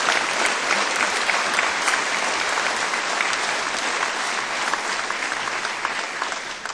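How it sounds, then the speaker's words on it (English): Sustained applause from a large audience honoring Louisiana teachers at a governor's State of the State address, dense, steady clapping for nearly seven seconds with no speech over it. "I think we should give a round of applause for our teachers in Louisiana and the great job they do every day."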